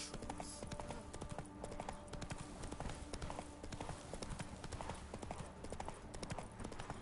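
Rhythmic hoofbeats of a horse ridden in The Witcher video game, a steady clip-clop gait repeating throughout over a continuous background bed, close and even in loudness.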